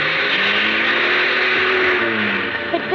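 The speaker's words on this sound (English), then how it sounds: "He shoved the car into reverse." A car stuck and revving hard in reverse as a radio-drama sound effect: a loud, continuous engine roar with a straining whine that holds steady, no speech over it.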